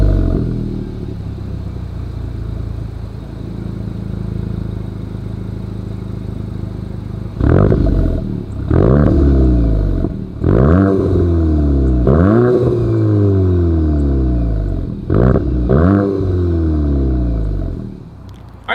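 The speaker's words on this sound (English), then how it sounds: "As always, here is that exhaust clip." A 2023 Volkswagen Golf GTI idles through its dual exhaust, then rises into a series of about six sharp revs, each climbing quickly and falling back, loud and close with no talking.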